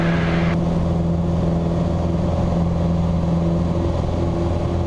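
A small training airplane's engine accelerating through a climb during crosswind low-approach practice, heard as a loud, steady droning roar that holds throughout.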